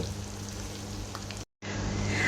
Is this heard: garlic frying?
yes